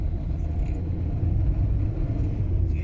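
Fiat Grande Punto Multijet diesel engine under turbo boost, a steady, loud low-frequency rumble that holds evenly from start to finish with no talking.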